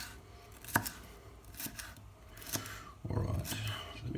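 A knife chops through capsicum on a cutting board, cut into thin strips for a beef stir fry, giving several separate crisp knocks with gaps between them, up close, and a quicker run of cuts near the end.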